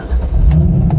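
A 2001 Corvette Z06 V8 with long-tube headers and an X-pipe with no catalytic converters rumbles at a steady low idle, close and fairly loud, with no talk over it.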